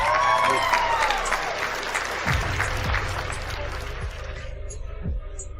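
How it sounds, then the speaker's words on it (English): Online gathering participants applaud for Annie, a sustained patter of clapping that thins toward the end, with a low voice talking over it and a brief tonal chime at the start. "Give her a round of applause, please, Annie."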